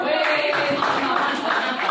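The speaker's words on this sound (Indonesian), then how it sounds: "Tepuk tangan." A classroom of students claps hands on a teacher's cue during a biology lesson, a short burst of fairly close clapping with a voice faintly mixed in beneath.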